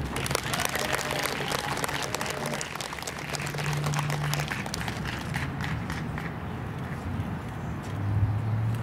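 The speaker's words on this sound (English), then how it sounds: "Give a big round of applause to Jerry Rayburn." Sustained applause from a crowd at an outdoor Stand for Asians rally in Irvine, a steady dense patter of clapping that carries on without pause and fades slightly toward the end.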